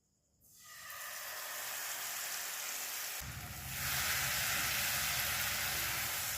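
Spice paste sizzling in hot oil in a pan over a low gas flame, a steady close hiss that swells louder as the paste hits the oil, with no talking.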